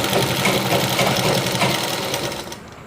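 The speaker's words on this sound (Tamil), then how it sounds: "இப்போ நான் பதிவு தையல் போட்டுட்டேன்." A sewing machine stitches a chudidhar collar, running in a fast steady mechanical chatter close up, then slowing and stopping near the end.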